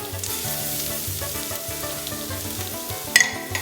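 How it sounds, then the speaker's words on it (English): Minced fresh garlic sizzles steadily in a hot pan for Brazilian pulled pork, a continuous frying hiss under rhythmic music, with a couple of sharp clinks near the end. "add a very large tablespoon of minced garlic that I already prepared"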